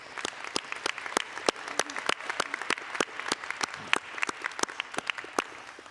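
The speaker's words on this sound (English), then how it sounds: "So please join me in giving our guests, including Felicia, a round of applause." Applause from the audience at a spring university convocation for integrated studies graduates: scattered, distinct claps spread across the room, steady for six seconds at moderate volume, with no talking.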